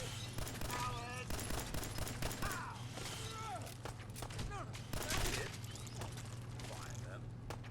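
Gunfire bursts in the video game Fallout 4, with rapid shots and mechanical clatter over a steady low hum and game voices, fairly loud and continuous throughout.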